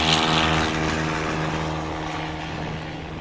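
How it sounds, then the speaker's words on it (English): A STOL airplane roaring close by as it takes off at a short takeoff and landing practice in Jennings, Louisiana, its propeller engine loud with a strong harmonic drone that gradually fades. "What a strong takeoff."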